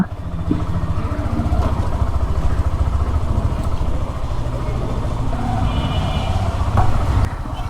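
A newly washed motorcycle engine idles with a loud, steady, rapid low thrum that runs unbroken from start to finish, with no talking.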